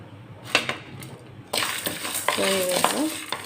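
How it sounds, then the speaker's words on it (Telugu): Cumin and other whole spices dry-roast in a pan for stuffed brinjal fry, giving a few light scrapes and taps, then a louder rustling stir-and-sizzle texture with utensil scraping, close and continuous, no talk. "ఇవి డ్రై రోస్ట్ చేసుకోవాలి"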